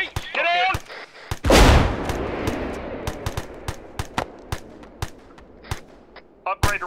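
Arma III combat: a big, close RPG blast with a long rumbling tail, followed by a scatter of sharp gunshots, some near and some distant, with a voice shouting briefly at the start.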